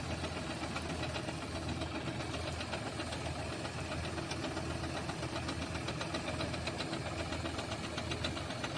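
Tractor engine running during a dusty wheat harvest with a combine, a steady, close, knocking diesel drone that holds without pause and with no talk over it.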